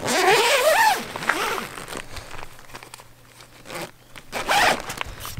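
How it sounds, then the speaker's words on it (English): A zipper on the front door of a six-person camping tent is pulled down in a few quick, close rasping strokes, with crinkling fabric and short pauses between strokes. "let me zip it down quick"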